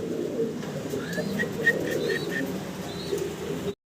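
Pigeons coo softly in short repeated phrases over a low background murmur, fairly close and gentle.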